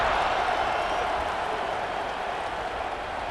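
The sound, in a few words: stadium crowd cheering before football kickoff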